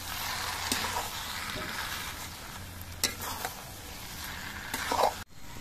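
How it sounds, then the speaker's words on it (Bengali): Muri ghonto in a pan, with ghee and garam masala being mixed in, gives a steady close sizzle broken by a few sharp scrapes and taps of the spoon before stopping abruptly; no talking. "এবার ঘি আর গরম মশলা মিশিয়ে দিতে হবে।"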